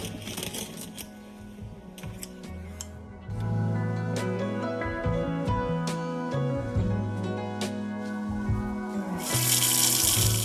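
Cold tap water runs steadily while salt is rinsed off cured salmon fillets for bag-cured smoked salmon, a continuous close splashing stream with handling clatter and a louder gush near the end.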